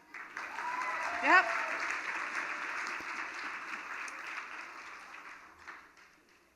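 A gala audience gives an award recipient a sustained round of applause, a steady, moderately loud wash of clapping that slowly fades near the end, with a brief spoken word over it early on.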